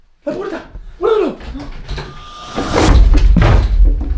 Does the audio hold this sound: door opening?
yes